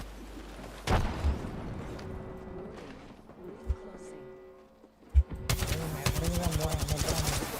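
Gunfire in the battle royale game Apex Legends, a single sharp shot early and a few isolated bangs, then a fast automatic burst of rapid shots near the end.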